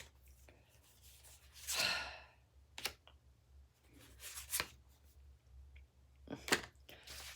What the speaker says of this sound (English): because this deck is really still stiff and my shuffling will be kind of pathetic